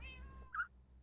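A cat in the game Valley of the Cats gives one short, clear meow midway through, set against a quiet electronic hum and a fading tonal sound.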